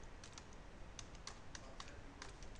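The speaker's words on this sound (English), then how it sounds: "I type" Steady typing on a computer keyboard while logging into Windows Server 2019 Server Core, a run of light, quick key clicks in an uneven rhythm over a faint low hum, close and quiet, with no talking.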